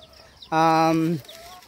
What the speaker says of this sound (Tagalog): Tapos meron tayo ditong Rhode Island Red na manok.